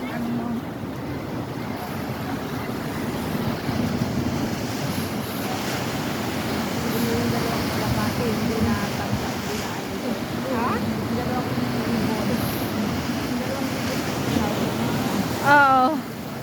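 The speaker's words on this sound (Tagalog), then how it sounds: "Ito yung dalampasigan ng Center Island Beach." Waves wash onto the shore of Centre Island Beach with a steady surf and wind rumble, close to the microphone, as people talk quietly over it.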